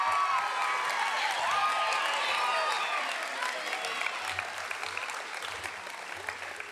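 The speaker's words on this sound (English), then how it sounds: "applause for choir." Audience applause for a choir at the 2025 Heritage Academy Mesa school awards ceremony, a sustained burst of many hands clapping that fills the room, dense at first and then thinning slightly as it carries on.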